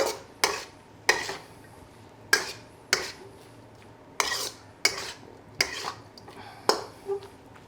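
Beef and scallions are stir-fried in a pan, with a series of sharp utensil clacks and scrapes against the metal at irregular intervals over a faint background sizzle.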